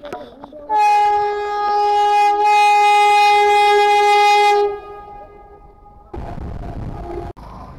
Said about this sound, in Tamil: சரி வந்தே பாரத்னு நினைக்கிறேன்.